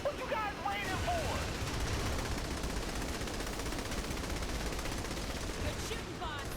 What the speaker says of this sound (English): We're shooting at helicopters with assault rifles